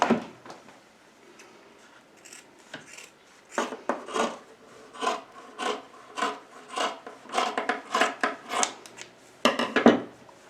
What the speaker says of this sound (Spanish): y ahora lo voy a cortar